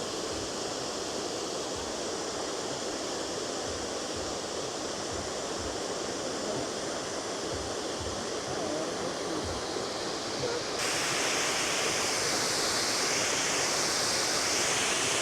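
Siklawa waterfall in the Tatra mountains, a powerful, dense, continuous roar of rushing water, loud and close, steady throughout and growing slightly brighter near the end, with no voices.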